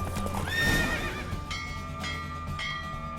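Hooves from Roach, the horse in The Witcher III, clip-clop in a fast gallop during a race, and the horse neighs loudly near the start, with no talk.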